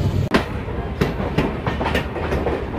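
An old MEMU local train clatters past close by at an Indian railway station, its wheels beating a loud, regular clickety-clack over the rail joints.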